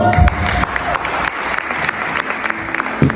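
An audience at a marriage retreat breaks into loud, sustained applause, dense clapping close by that fills the clip, with a few louder thumps near the start and end.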